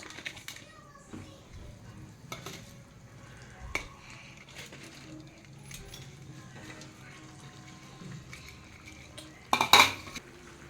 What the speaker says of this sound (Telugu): నెక్స్ట్ మ్యాగీ వేస్తున్నా ఉడకడానికి